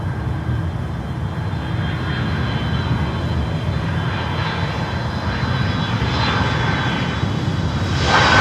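An Avianca airliner arrives at Miami airport, its jet engines a loud, steady broadband roar that swells slightly toward the end, with no voices.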